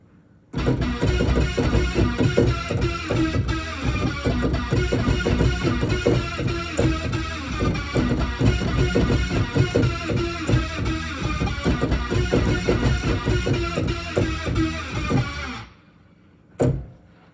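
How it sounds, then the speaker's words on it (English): Dense, buzzy hoover synth stabs pound out a fast repeating hardcore riff for about fifteen seconds, loud and continuous, then stop abruptly with one last short hit. "So the first part I actually played was with the Hoover stab."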